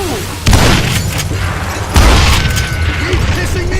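Gunshots in the Western shooter game Call of Juarez Gunslinger, two loud booming bursts about one and a half seconds apart over constant game noise and rumble.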